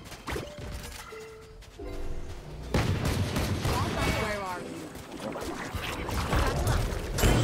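Gunshots crack in the video game Valorant in bursts of several rounds, mixed with other game sounds and excited talk, growing busier and louder after a quieter opening.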